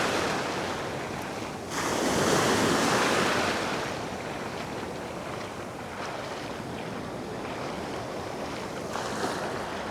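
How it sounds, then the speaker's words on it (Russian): Sea waves break on a beach in sunny weather, a continuous loud wash of surf with a swelling surge early on and wind noise throughout. "Особенно вот эти волны."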